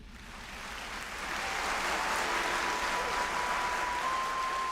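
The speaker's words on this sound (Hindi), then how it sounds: "कुछ ऐसे भी हैं इनमें जिनका स्वागत तालियों से होता है" Applause in an anime movie, a dense crowd clapping that swells in over the first couple of seconds and then holds steady and loud, alone without voices.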